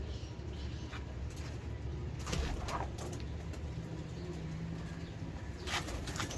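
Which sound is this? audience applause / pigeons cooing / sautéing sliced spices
pigeons cooing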